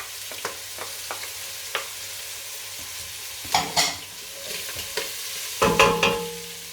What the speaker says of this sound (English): My onion and my garlic, in it goes.